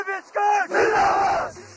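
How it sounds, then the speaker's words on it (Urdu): Winning team and Pakistani army soldiers at the close of a winter festival chant "Pakistan Zindabad" together, a short call followed by a loud massed crowd shout that holds for about a second before cutting off. "فاتح ٹیم اور پاک فوج کے جوانوں نے پاکستان زندہ باد کے نعرے لگائے"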